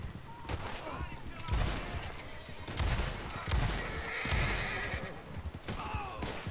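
Gunfire in Red Dead Redemption 2 Online multiplayer, scattered shots amid horse whinnies and galloping hooves in a busy, noisy game scene.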